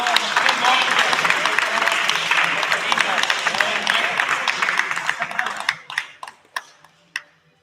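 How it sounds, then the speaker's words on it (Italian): A crowd at a futsal club's team presentation applauds steadily for several seconds, then the clapping thins out to a few scattered claps before stopping. "Brava Teresa, un applauso."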